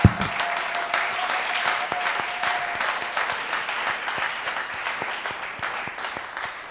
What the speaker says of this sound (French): if you say, you can just clap